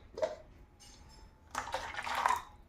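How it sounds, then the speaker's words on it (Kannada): Water is poured from a mixer jar back into a cooking vessel in a home kitchen. A short clink comes first, then a close, splashing pour with metallic rattles that lasts about a second. "ಕಾಲು ಲೋಟದಷ್ಟು ನೀರನ್ನು ಮಿಕ್ಸಿ ಜಾರಿಗೆ ಹಾಕಿ ಮತ್ತೆ ಪುನಃ ಇದೆ ಪಾತ್ರೆಗೆ ಹಾಕ್ತೀನಿ"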